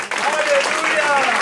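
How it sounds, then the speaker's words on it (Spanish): A church congregation at a baptism in Tajomulco, San Marcos, claps loudly in a dense, continuous burst of applause mixed with voices. "¿Qué tal si le das fuertes aplausos a Dios?"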